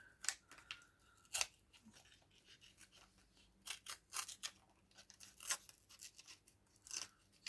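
A cheap Action-brand cutter slicing paper for a diamond painting, giving sparse, sharp, faint crisp cuts and scrapes spread across the stretch, with quiet gaps between them.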